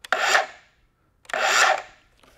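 Plastic safety clip on a DeWalt FlexVolt 60V 9-inch cut-off saw being clipped over, giving two close, short scraping rasps separated by a brief pause, with no talking.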